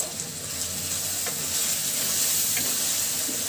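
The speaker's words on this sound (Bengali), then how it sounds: "সবগুলো উপকরণ খুব সুন্দরভাবে কষিয়ে নিব যতক্ষণ উপর দিয়ে তেল ভেসে না উঠবে ততক্ষণ কষাতে থাকবো" Turmeric, chili, coriander and black and white cardamom fry in hot oil, a steady close sizzle with occasional stirring scrapes and no talk.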